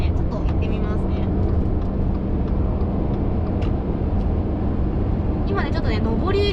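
A 2022 Subaru Forester Sport with its turbo engine pulls hard under acceleration on a highway, a steady broad engine and road roar heard from inside the cabin beneath continuous talking.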